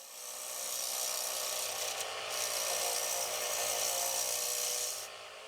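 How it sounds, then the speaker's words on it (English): A round cutter on an Easy Wood Tools finisher rounds over the rim of a wooden bowl spinning on a lathe, giving a steady close scraping rasp for about five seconds before easing off. "Rounding over the rim is easy with the round cutter on the easy finisher."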